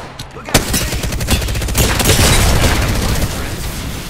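Rapid bursts of gunfire crackle through a video game firefight, a Prowler weapon among them, shots dense and loud after a sharp opening crack, with voices talking over the action.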